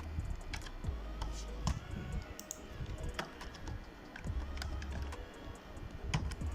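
Someone types a name on a computer keyboard, a quiet run of close, irregular key clicks and taps that continues throughout with no talking.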